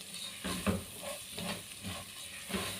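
Basmati rice and other ingredients stirred and sautéed in a cooking pot, giving a steady sizzle with soft, irregular scraping strokes of the stirring, close and fairly quiet, with no talking.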